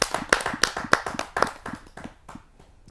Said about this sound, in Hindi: आप सबकी जोरदार तालियों के माध्यम से